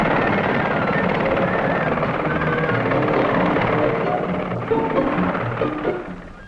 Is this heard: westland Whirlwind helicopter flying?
yes